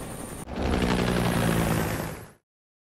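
A helicopter in a film about survivors trapped in a plane surrounded by sharks gives a loud, steady rotor roar after a brief lead-in. The roar holds for about two seconds, then cuts off abruptly.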